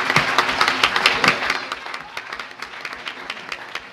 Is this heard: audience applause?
yes